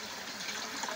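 Water flowing steadily in a Philippine barangay setting, a continuous broadband wash with no talk over it.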